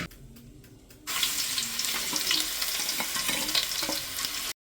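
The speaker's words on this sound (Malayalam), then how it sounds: "നമ്മുടെ ശരണ്യ മീനൊക്കെ നന്നായിട്ട് വൃത്തിക്ക് കഴുകിക്കൊണ്ടിരിക്കുകയാണല്ലേ" Fish for a fish-head curry is rinsed under a running kitchen tap, the water switching on after a second of quiet and then splashing steadily and close, with intermittent clinks and handling noises.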